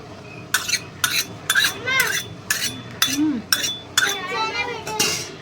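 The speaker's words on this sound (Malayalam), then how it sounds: "കൊച്ചു ഇത് ഇളക്കട്ടെ" Banana payasam being stirred in a metal pot with a ladle, a rhythmic series of about nine scraping, clinking strokes roughly every half second, close and clear, with people talking alongside.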